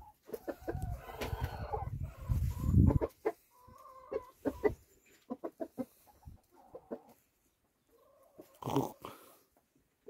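A rooster and hens in a village yard cluck and squawk in short bursts, close and fairly loud, with scattered pauses between calls and a louder flurry near the end.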